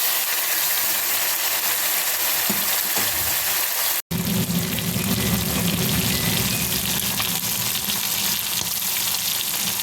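Shrimp frying in hot oil in a pan, a loud, continuous crackling sizzle, close up. A brief cut near the four-second mark, after which the frying sounds a bit fuller and lower.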